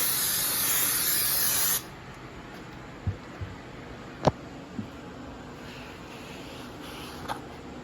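A burst of aerosol brake cleaner hisses steadily onto new brake rotors for almost two seconds, followed by quiet with a few small clicks and knocks from the work.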